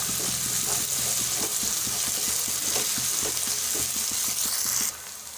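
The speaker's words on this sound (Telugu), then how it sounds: "1 టీ స్పూన్ అల్లం పేస్ట్ వేసుకొని కలుపుకోవాలి. పచ్చివాసన పోయే వరకు కలుపుకోవాలి." Ginger paste being stirred into tomato masala frying in a pan: a loud, continuous close sizzle under quick, rhythmic spoon scrapes, which stops abruptly near the end, leaving quieter background.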